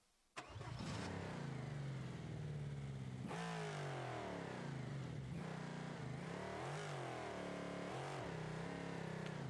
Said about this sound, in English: I like those engine sounds so much that I actually put them on CRD as well.